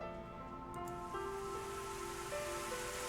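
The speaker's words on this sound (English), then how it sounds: "I awoke to the sound of rain striking water." Steady rain patters onto water in a video game, a soft continuous hiss with a calm tonal music bed sustained beneath it, even and unbroken throughout.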